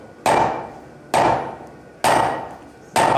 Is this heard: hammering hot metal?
yes